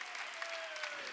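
Congregation clapping during a Wednesday church worship service, a brief burst of many hands applauding together, steady and fairly dense, heard from within the hall.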